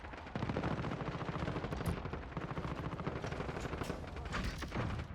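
Dense, continuous rapid-fire gunfire from the video game Call of Duty Modern Warfare 2019, in a Domination match on the Crash map, with loud overlapping automatic bursts sustained throughout and no talking.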